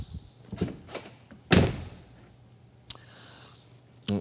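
Door of a scratch-built electric car: several light handle clicks and knocks, then one loud close thunk, followed by scattered sharp latch clicks and a final rattle against a quiet background hum.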